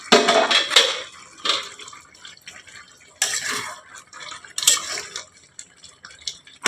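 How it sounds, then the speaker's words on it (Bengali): A metal lid clanks off a pot of boiled potatoes in a home kitchen, with several sharp clatters and scrapes of cookware coming in separate bursts between quiet gaps. "ঢাকাটা খুলে দিলাম।"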